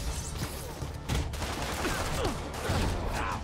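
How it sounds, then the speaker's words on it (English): Rapid overlapping gunfire from many directions in the game Marvel's Spider-Man, a dense continuous barrage of shots and impacts at moderate volume, with no one speaking over it. "There's so many shots coming in from everywhere."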